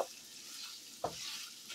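Food sizzling in a pan on the heat with a steady frying hiss, broken by a couple of sharp scraping stirs of a utensil against the pan, close and fairly quiet with no voices.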